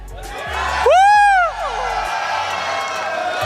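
At a Mobile Legends: Bang Bang M6 World Championship esports event, a loud rising whoop rings out over a broad, steady crowd roar that continues at lower volume afterward.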